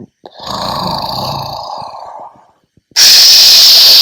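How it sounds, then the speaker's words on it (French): A loud, rasping snore drawn out for about two seconds, then a brief pause and a sudden burst of harsh, hissing noise. "le loup était couché sous l'arbre et ronflait à en faire"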